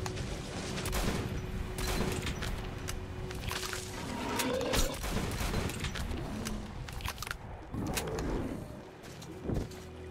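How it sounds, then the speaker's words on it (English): Double-barreled shotgun fire in the video game Metro: Last Light, sharp repeated blasts at irregular intervals over dense game ambience and background noise. "Double shotgun."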